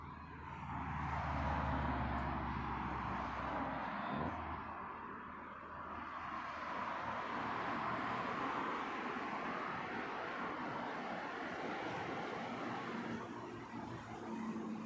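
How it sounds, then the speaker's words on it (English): British Airways Flight 88 from Beijing approaching Heathrow to land on runway 27 left, a steady broad jet roar that swells early, then holds as a sustained wash of engine noise with no talk. "this is British Airways Flight 88 in from Beijing"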